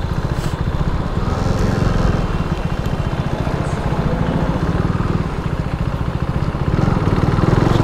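A motorcycle engine runs steadily and loudly as the bike is ridden, a continuous rough mid-pitched drone with no pauses and no talking.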